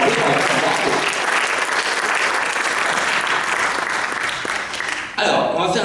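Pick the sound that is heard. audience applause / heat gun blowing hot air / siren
audience applause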